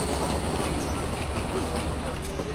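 The Meghna Express, an intercity train between Chandpur and Chittagong, rumbles steadily along the rails, a continuous loud wheel and carriage roar heard from inside.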